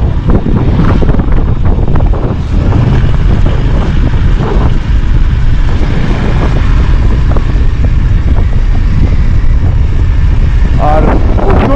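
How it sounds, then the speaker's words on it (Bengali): Strong cold wind blowing hard across a mountain road where bikers pass, roaring loudly and steadily into the microphone for the whole stretch, with a talking voice partly buried underneath. "আর প্রচণ্ড জোরে ঠান্ডা হাওয়া বইছে, প্রচণ্ড জোরে।"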